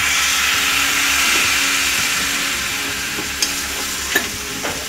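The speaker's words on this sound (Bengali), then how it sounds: "এইভাবে করে মশলাটাকে কষিয়ে নেব।" Spiced masala paste sizzling and being stirred in a pan with a little added water for jackfruit and prawn curry, a steady frying hiss with soft scraping strokes and a few sharper clinks near the end, no talk.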